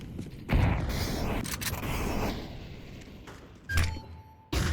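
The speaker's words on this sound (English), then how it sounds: "I'm throwing a grenade." A grenade is thrown during a first-person shooter map playtest: a few dull mechanical thunks and clicks, with a sharp thud near the end over steady in-game background noise.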